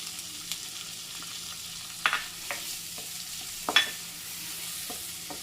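Papaya pieces with turmeric being stirred in a frying pan, a gentle sizzle with several sharp scrapes and clinks of the spoon against the pan, and no talking.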